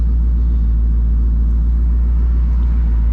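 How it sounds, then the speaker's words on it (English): A loud 2007 Ford Mustang GT engine gives a deep, steady, throbbing rumble heard up close from inside the car, with no voices. "This car is so loud, bro."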